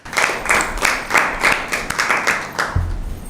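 An audience claps for team B at a school Bible quiz, a loud close round of applause in rhythmic waves, ending with a brief low thump.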